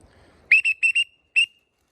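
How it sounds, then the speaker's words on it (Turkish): A sharp whistle blown in four quick short blasts followed by a fifth after a brief pause, loud and close. "Bir düdük çalalım."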